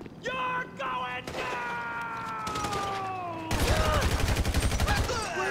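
Sustained automatic gunfire in Grand Theft Auto 5, rattling on under whining tones and growing into a dense, loud rapid-fire burst toward the end.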